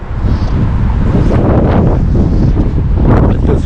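Strong wind buffets the microphone beside a Minnesota lake during a spring fly-fishing outing, a loud steady roar with gusty swells throughout and no voices.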